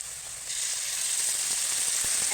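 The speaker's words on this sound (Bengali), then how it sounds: "এই যে আমার পেঁয়াজটা ভাজা হয়ে গেছে এবার আমি মশলাটা দিয়ে দিচ্ছি" Spice paste dropped onto fried onions in a hot pan, the sizzle jumping louder after a quiet start, then a steady close hiss with light stirring, no voices.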